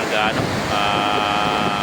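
Steady strong wind on Boracay island roaring across an open microphone, with a constant broadband rush and a few faint tonal whistles riding on top.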